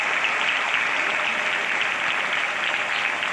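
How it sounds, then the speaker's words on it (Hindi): Sustained applause from an audience at a public event in Barwani, honouring the chief minister, a dense, even wash of clapping heard steadily with no talking. "जोरदार तालियां"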